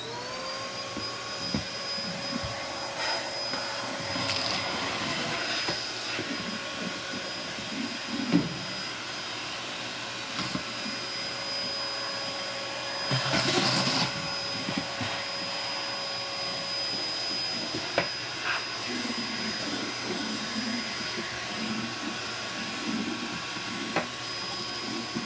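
A Royal / Dirt Devil canister vacuum cleaner runs continuously with a steady high whine and airy hiss, fitted with hose and extension wand, its tone shifting slightly as it is moved, with occasional bumps and clicks.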